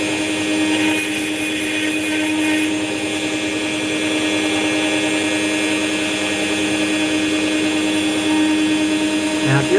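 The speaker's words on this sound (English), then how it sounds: "the cutting stage is almost over with this Dremel tool" A Dremel rotary tool grinds steadily through an opal stone, giving a constant high whine that stays loud and unbroken throughout, with no one speaking.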